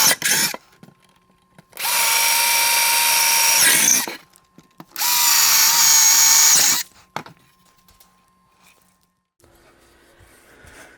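A power drill drives screws into a turntable plinth in two loud, sustained runs of roughly two seconds each, with brief clicks and handling noises between them.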